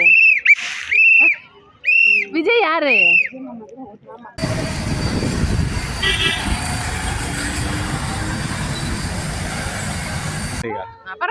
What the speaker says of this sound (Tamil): விசில்லையா கையில வச்சிருக்கீங்க? எங்க ஊதுங்க.